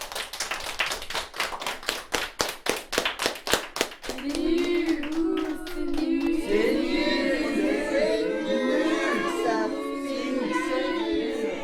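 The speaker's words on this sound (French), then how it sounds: "On l'applaudit bien fort." Crowd applauding a stage performer billed as Dracula, first as sharp rhythmic unison clapping, then dissolving into busy overlapping chatter and children's voices.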